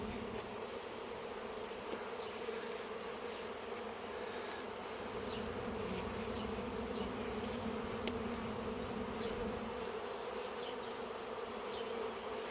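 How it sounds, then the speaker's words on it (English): Honey bees buzz steadily around beehives outdoors during an oxalic acid vapor treatment for varroa mites, forming a continuous, dense drone of many insects at moderate distance with no talking. "A lot of bees out here today, real busy."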